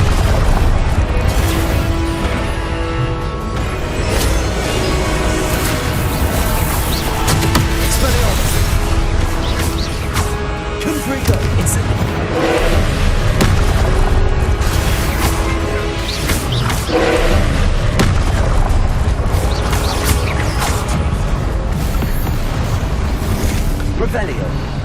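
Incendio fire spell blasts in the Hogwarts Legacy video game, repeated booming, crashing bursts and whooshes over a dense, loud, continuous wash of game sound.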